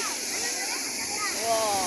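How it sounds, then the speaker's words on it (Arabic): A natural waterfall rushing and splashing in a steady broad roar, with faint voices in the background. "شوفوا قد إيه يا جماعة شلال جميل، شلال طبيعي."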